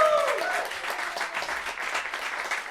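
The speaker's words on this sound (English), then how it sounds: "Can we please also give a round of applause for Brad Hawkins?" Audience applause in a small live show setting, moderate continuous clapping throughout, with a voice briefly audible at the start.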